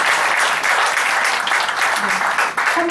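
An audience at a political lecture evening in Incheon gives a warm round of applause to a presenter. Steady, dense clapping runs the full three seconds with no pause.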